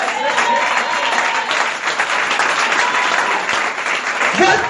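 A church congregation applauds and cheers during a sermon, dense sustained clapping from many hands filling the room, loud and close, with voices mixed in throughout.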